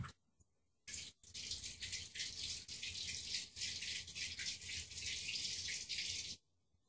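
Steady rush of running tap water splashing into a sink for several seconds, with faint rattling as a tomato is rinsed under the stream, then it shuts off.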